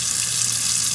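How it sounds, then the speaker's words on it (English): Cold tap water runs steadily over raw chicken wings in a kitchen sink, a continuous close hiss and splash with no voices. "I turn and I place cold water over my chicken."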